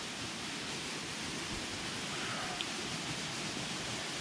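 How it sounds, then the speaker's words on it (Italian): A waterfall with a drop of about 15 to 20 metres, inside an ancient water channel in the Biedano canyon, heard as a steady, broad, hissing rush of water with no other sounds. "Sotto di me c'è una sorta di cascata."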